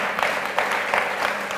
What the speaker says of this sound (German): Immer einen warmen Applaus